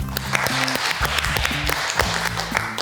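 Applause for a jury member on a cooking competition show, clapping heard under lively music with a steady beat, loud and sustained throughout.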